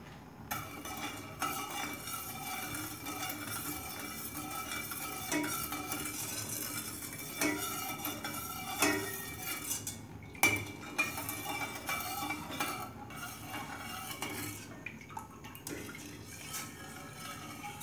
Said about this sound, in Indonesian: Kita aduk-aduk seperti ini ya teman-teman ya.